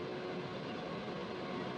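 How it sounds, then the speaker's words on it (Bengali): Kollam–Visakhapatnam special train pulling into a junction station, a continuous low rail rumble with a faint tonal hum, steady and moderately distant throughout. "আবার 9:56 একটা ট্রেন ঢুকছে।"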